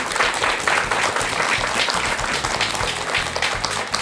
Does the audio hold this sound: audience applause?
yes